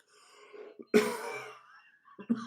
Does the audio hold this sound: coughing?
yes